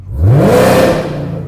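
A Chevrolet Camaro ZL1 V8 with Borla full exhaust and long tube headers revs sharply upward in sport mode, a throaty raspy exhaust roar rising in pitch then holding and settling, loud and close.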